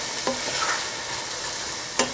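Mushrooms sizzle in a frying pan for a rabbit cacciatore, a steady close hiss broken by two brief scrapes of stirring.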